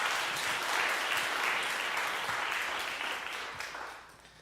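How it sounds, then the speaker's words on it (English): An audience at a humanities lecture on dance and storytelling applauds in a steady, moderately loud wash of clapping that gradually fades toward the end. "Please give a round of applause for all those who made this possible."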